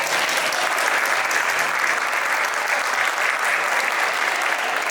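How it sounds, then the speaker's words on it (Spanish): Audience applause at a panel talk during a book fair, steady dense clapping from a large crowd filling the whole stretch at even loudness, with no voices over it. "Merecidos los aplausos del premio"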